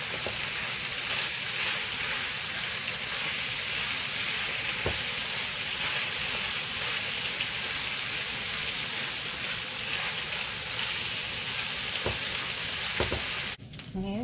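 Beef sizzles and fries steadily in a pan, a loud continuous crackling hiss with occasional stirring clicks and a scrape near the end.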